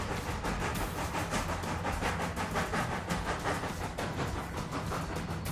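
A train on a mountain railway rumbling along the rails with a steady rhythmic clatter and hiss, loud and close, running continuously without pause.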